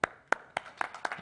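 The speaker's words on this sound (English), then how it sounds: "let's give him a big applause" A handful of scattered hand claps ring out at a business gathering as a guest speaker is introduced, sharp separate slaps spaced unevenly rather than a full ovation.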